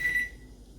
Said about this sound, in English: So the 30 minutes is up. You hear the timer.